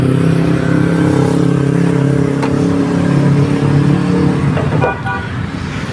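A 2006 Nissan X-Trail ST 2.5 with automatic transmission idles steadily nearby, its engine hum loud and even with no talk, then dips slightly near the end.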